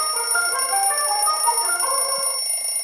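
A phone alarm rings with a steady beeping, chiming tone pattern repeating over a constant high electronic whine, loud and close, alone without talk.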